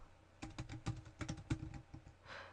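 Close, quiet keystrokes on a computer keyboard while a site name is typed, a quick irregular run of clicks with short pauses and no voice.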